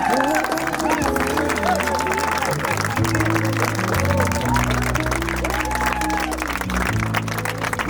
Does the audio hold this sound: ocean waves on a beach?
no